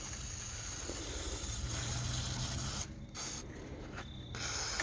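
WD-40 sprayed onto parts around the hood latch of a 1989 Ford E150 van, a continuous close hiss that runs for several seconds and then breaks into short bursts with brief pauses between them.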